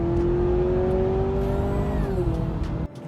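A 2023 Honda CR-V Hybrid accelerating hard in sport mode with simulated gear shifts gives a close, steady engine drone whose pitch climbs, then drops at a shift point before the sound cuts off.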